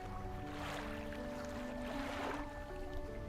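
A fishing boat's engine in the game DREDGE produces a quiet, steady droning hum over faint lapping water, idling low and even near a dock.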